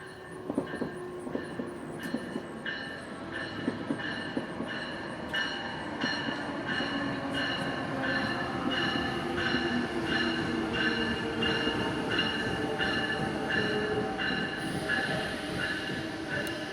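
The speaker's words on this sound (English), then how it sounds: "And another train is coming." A train arrives at Paoli station, wheels clicking rhythmically over rail joints with high squeals and a steady rolling rumble, heard from the platform at moderate distance for over fifteen seconds with no talk.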